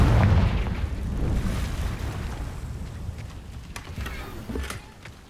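Confringo explosion spell in Hogwarts Legacy: a deep, rumbling blast that opens loud and decays into a long rolling roar, with faint crackling debris and wind-like hiss trailing off.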